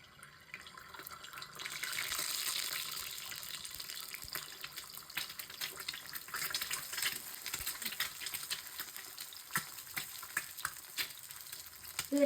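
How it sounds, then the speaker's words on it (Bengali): Eggs fry in oil in a pan with a bright, crackling sizzle that rises and falls, punctuated by small pops and spatters, heard alone without speech. "এটাকে আমরা সুন্দর করে ভেজে নিচ্ছি। আর আমরা এভাবে দুইটা ডিম ভাজবো"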